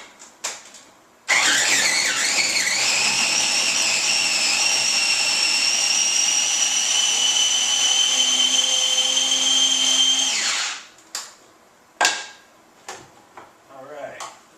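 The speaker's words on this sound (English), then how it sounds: "Stick it in this food processor here." A food processor whirs loudly in a kitchen for about nine seconds, starting abruptly and cutting off sharply, followed by a few short clattering knocks.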